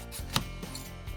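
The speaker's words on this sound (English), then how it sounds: "the sound is terrible. The metal on the metal." A metal lemon slicer gadget scrapes metal on metal in a short burst of clicks and a sharp scrape, close up, with no talk.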